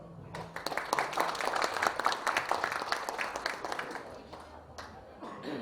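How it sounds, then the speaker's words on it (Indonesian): An audience at a product soft-launch event claps for the company's owner and founder, a dense burst of many hands close by that holds for several seconds and then tapers off. "Sekali lagi tepuk tangan buat Bapak Andreas, owner dan founder kita"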